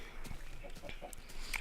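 A Minecraft chicken clucking in short, soft, scattered bursts over a steady low game ambience, fairly faint and with no talking.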